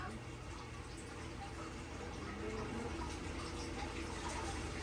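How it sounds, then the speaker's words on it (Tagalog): Water is poured steadily during a bath, a continuous splashing rush that stays fairly even throughout, with faint background noise and no clear talk. "Buhos mo na ikaw ng tubig."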